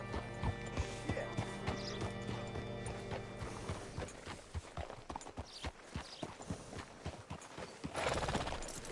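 Horse hooves in the video game Red Dead Redemption 2: clear, rhythmic clip-clop steps grow more distinct midway, over a rattling, mechanical ambience with a brief whinny-like sound at the end.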